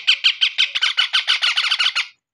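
A baby parrot at hand-feeding time gives a rapid run of about a dozen shrill squawks, loud and close, then stops abruptly.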